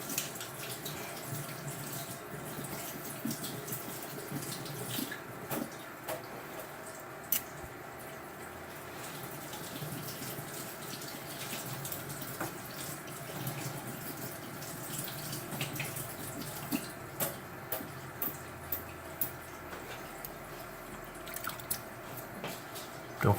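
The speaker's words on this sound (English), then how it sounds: "You'll then rinse your reel off there." Running tap water splashing over a vintage fly reel being rinsed, a steady close gush with scattered drips, small clicks and handling knocks, no talking.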